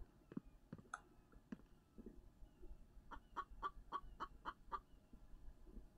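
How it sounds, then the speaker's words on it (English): A chicken clucks in a winter survival video game, giving a few scattered soft clucks at first and then a quick run of about eight rhythmic clucks, faint and somewhat distant, over low ambient background. "I hear that chicken."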